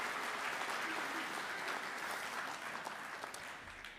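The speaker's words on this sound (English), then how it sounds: "So round of applause for all those guys." Applause at a school athletics Panther Awards ceremony: a roomful of people clapping steadily in a thick, even wash of claps that gradually tapers off toward the end.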